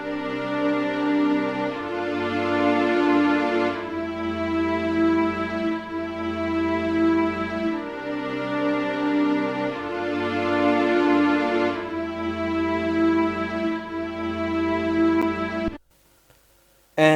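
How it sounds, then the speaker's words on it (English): Sustained layered string section built from two sampled patches, Expressimo and Large String, for a cinematic R&B piece, swelling through slow chord changes roughly every two seconds before cutting off near the end. "the next element is the string section to emphasize the emotion, and for that I used two string patches from Xenology"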